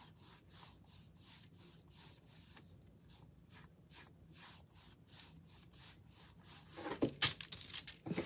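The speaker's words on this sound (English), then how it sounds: "I'm just going to brush this on." A brush spreads a bleached sand finish over a wooden farmhouse breadboard in quiet, regular rubbing strokes, soft and close, until a louder scraping swipe near the end.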